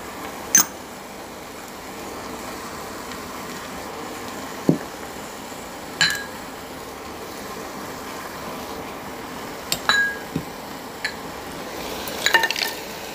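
Iraqi qeema of minced meat frying with onions and spices in a pan, with a faint steady sizzle broken by a few sharp clinks of a utensil against the pan.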